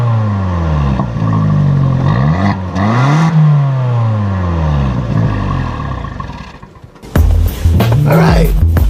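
A Fiat 500 Turbo engine revs hard and rises in pitch several times, its single exhaust growling loudly up close, then a sharp blip and rumble near the end.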